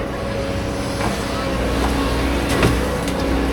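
A heavy truck rumbles nearby at a muddy riverside banana plantation being cleared, a steady loud engine drone with faint voices in the background.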